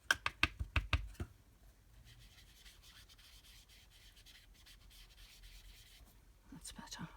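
Soft pastel is rubbed over paper while drawing dahlias: a quick run of close scuffing strokes opens, followed by a long quiet stretch of faint rubbing and a few more brushing strokes near the end.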